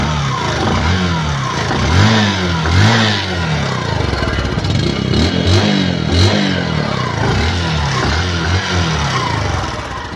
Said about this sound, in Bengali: ফ্রি অ্যাক্সেলেটারের ইঞ্জিনের সাউন্ড, ফ্রি অ্যাক্সেলেটারের স্যালেন্সারের অ্যাক্সেলেটার দিয়ে সাউন্ড শোনায়